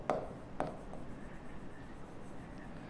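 A physics formula is written out by hand, with two sharp tapping strokes at the start followed by faint scratchy writing.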